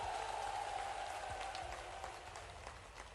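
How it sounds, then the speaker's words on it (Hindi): Dense, steady applause from a large rally crowd at a Ladli Behna Sammelan in Lahar, Bhind district, a continuous hiss of many hands that fills the whole moment and eases slightly toward the end. "तालियों की गड़गड़ाहट लगाकर"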